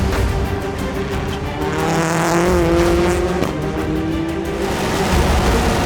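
A race car runs a dusty heat race, a continuous loud engine roar with shifting pitch and gritty tire and road noise throughout, no voices.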